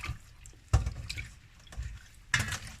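Water sloshes and splashes in short bursts as kawakawa leaves are swished around in a basin of cool water, with a couple of sharper splashes, close by.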